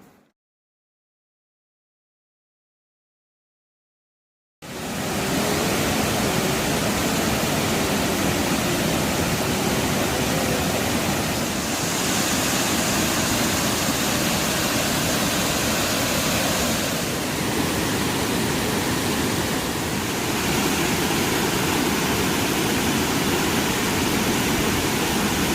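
After several seconds of silence, a large Konkan waterfall carrying lots of water comes in as a loud, steady, unbroken roar that fills the rest of the scene.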